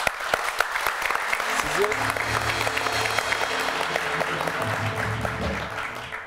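Studio audience applauding during a Turkish television talk show, steady, close clapping throughout with voices talking over it.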